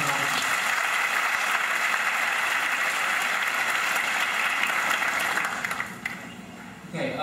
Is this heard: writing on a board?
no